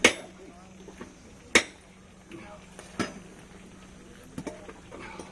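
At a historic fort, a blacksmith strikes raw iron with a hammer to chop it through the middle, giving sharp isolated metallic blows spaced a second or more apart over a low hum, with quiet talk between.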